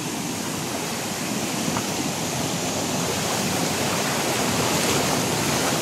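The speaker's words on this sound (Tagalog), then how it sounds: "Napakalakas ng impact ng tubig." Strong water rushing and crashing down at a waterfall near abandoned houses, a loud, steady broadband roar that fills the whole clip without letup.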